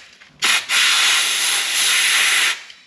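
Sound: air blowing out a drilled hole in a BMW engine block

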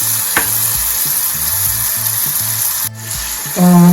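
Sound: green chillies sautéing in pan

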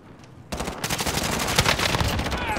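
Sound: gunfire from the video game Call of Duty: Modern Warfare

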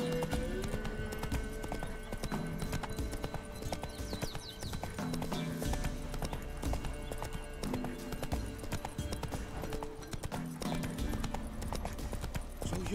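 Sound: horse Roach galloping in video game The Witcher 3

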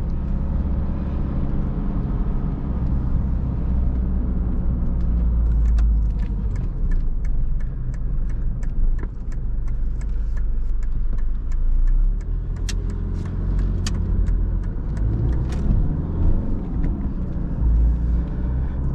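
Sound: Mercedes W124 200D diesel car driving

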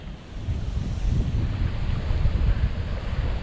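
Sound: strong wind

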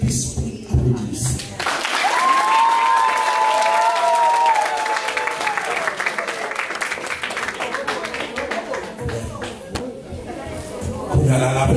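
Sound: applause at a wedding

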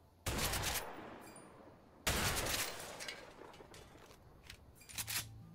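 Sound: gunfire shooting at empty houses in A Way Out video game

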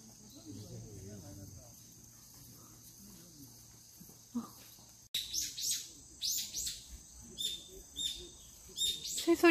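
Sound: birds chirping and singing in an arboretum

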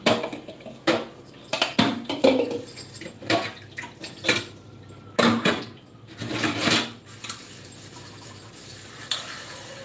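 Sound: dishes and pots clattering

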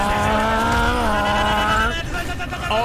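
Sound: players imitating race car noises in Overwatch voice chat

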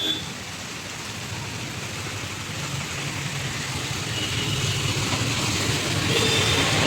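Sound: heavy rain at Saptagiri Circle, Anantapur

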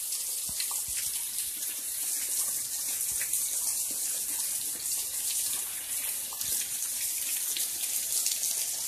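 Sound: waterfall, heard from behind it

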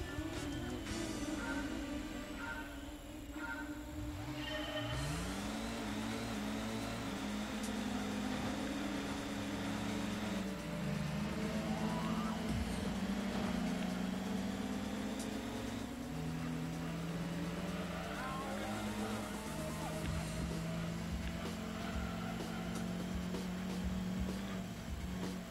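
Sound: Corvette engine racing in Gran Turismo 2 video game

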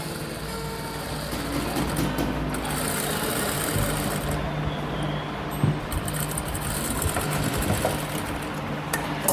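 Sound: sewing machine stitching a lined kurti

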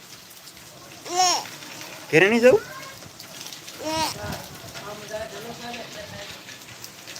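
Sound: rain

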